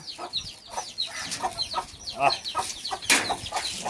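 Guinea fowl call from a poultry enclosure, a run of loud, harsh, repeated cackling cries that come in close, uneven bursts, with several birds overlapping.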